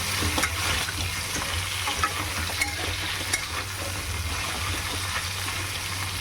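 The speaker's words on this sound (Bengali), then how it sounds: "হালকা আঁচেই ভেজে নেবে" Sea crab and potatoes frying on low heat in a pan, a continuous close sizzle and crackle with occasional stirring taps and a low background hum, no speech.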